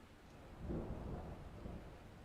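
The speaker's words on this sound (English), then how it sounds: "I can hear rain and thunder coming" Rain falls steadily outdoors while a low, distant roll of thunder swells and fades beneath it, faint and muffled overall.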